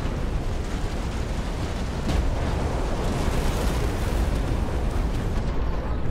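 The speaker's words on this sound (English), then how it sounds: "this guy just keeps dropping missiles" Dense, continuous rumble of missile explosions in the Phantom Brigade mech strategy game, a loud sustained barrage of overlapping blasts with a sharper burst near the two-second mark.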